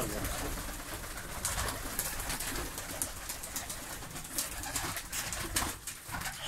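Yellow-winged Kanat Posta pigeons coo in soft, repeated murmurs throughout, moderately close amid a flock setting, with faint voices in the background.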